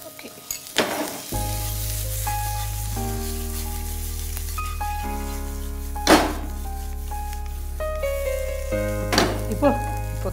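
Mutton frying in a pan with coriander powder, cumin powder and salt gives a steady sizzle beneath louder background music, with a few sharp knocks from stirring.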